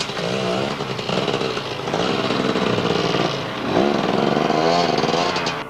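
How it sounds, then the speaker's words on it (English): A Gas Gas 250 enduro motorcycle races at a Snowrun event, its two-stroke engine buzzing and revving hard at close range, rising and falling in pitch as the rider works the throttle. "Phil riding a Gas 250."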